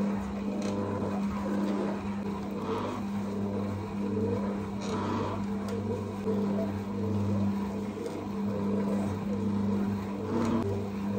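A kitchen mixer labours steadily as it kneads stiff, dry stollen dough made without eggs, giving a continuous strained motor drone with a low hum and faint periodic knocks, loud and close, with no speech.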